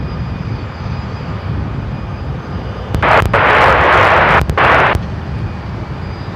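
An airliner taking off from runway 34 right at Seattle-Tacoma International Airport, a low distant engine rumble that swells into a loud roaring whoosh for about two seconds, then eases back toward a steady background drone.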